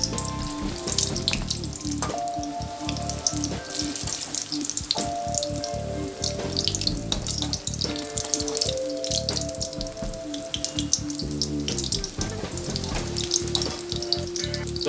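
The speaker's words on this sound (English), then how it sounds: "I'm going to cook this until it's nice and golden brown and nice and crisp outside" Spring rolls frying steadily in hot oil, a dense continuous sizzle with occasional crackles and faint clinks of turning them, close and alone without talk.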